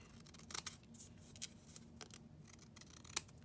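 Small scissors trim craft material for a Christmas craft with several quiet, crisp snips spaced unevenly.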